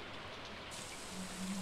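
Steady, soft rain in the video game Stardew Valley, an even hiss of falling drops with no other clear sounds.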